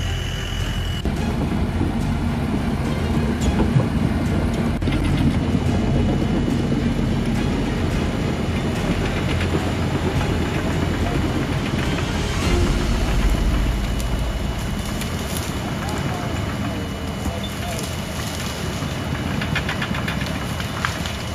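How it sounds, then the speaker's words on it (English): A forestry dozer pushing through woods to cut a fire break, its engine droning loud and steady with knocking, rumbling undertones throughout. "this dozer is pushing the woods. Cut the fire break"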